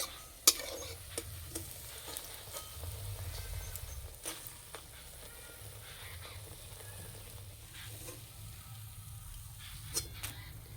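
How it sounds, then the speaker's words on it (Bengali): Pumpkin flower fritters fry one at a time in a little oil, making a soft, steady sizzle with occasional stirring clicks and scrapes, fairly faint and close. "তেল কমে গেছে, সেই জন্য একটা করে ভেজে নিচ্ছি।"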